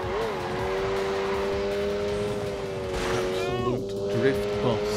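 A car drifting in The Grand Tour racing video game, its steady engine drone holding a rising pitch with a brief tire squeal near the end, under light background talk.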